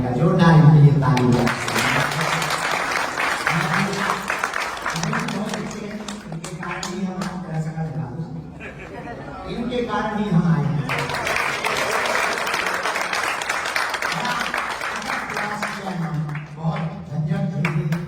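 A crowd at a religious gathering at the Sri Siva Subramaniya temple in Nadi, Fiji, breaks into loud, sustained applause that swells in two long waves, with someone speaking over it.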